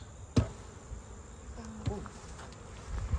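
Faint buzzing of honeybees being brushed off a comb during a honey harvest, with a few soft taps and brushing sounds, quiet and close, no voices.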